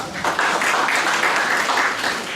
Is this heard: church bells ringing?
no